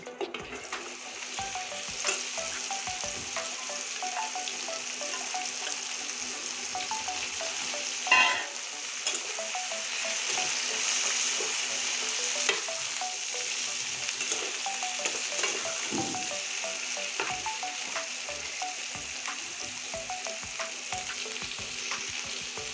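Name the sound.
chopped bottle gourd frying and being stirred in pan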